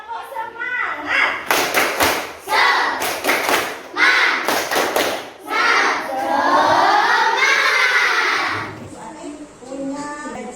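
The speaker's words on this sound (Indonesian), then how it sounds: "Tepuk semangat." Classroom of children doing a rhythmic spirit clap, sharp patterned bursts of claps and thumps with group shouting and a teacher's voice between them, loud and close.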